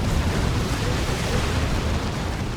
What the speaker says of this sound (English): Demolisher Cannon again.